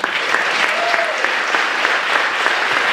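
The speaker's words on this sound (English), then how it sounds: "Let's give them another round of applause." Applause from the audience at a high school fall band concert, steady dense clapping throughout at a fairly loud, even level.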